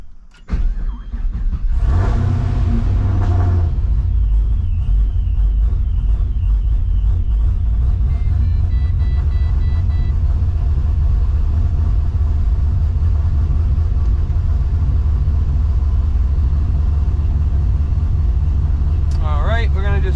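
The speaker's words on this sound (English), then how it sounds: "we're gonna just let this thing idle and warm up here for a minute" A Pro-Charged Pontiac GTO engine cranks and fires with a loud burst, then settles into a deep, steady rumbling idle, close and continuous to the end.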